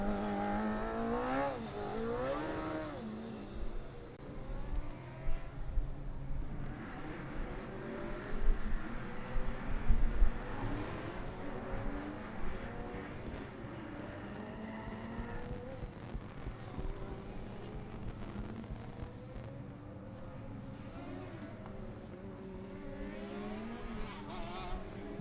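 Formula Student race cars on the endurance track at FSG 2012, engines revving and sweeping past with rising and falling pitch, some near and some distant, overlapping one another without pause.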